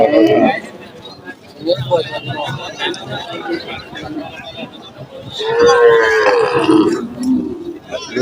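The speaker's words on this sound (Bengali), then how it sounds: "দেশি গরু" Local cows lowing at a busy cattle market in Narayanhat, Bhujpur, Fatikchhari, Chattogram, with several loud drawn-out moos close by amid crowd chatter and bargaining voices.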